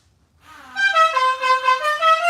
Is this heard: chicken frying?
no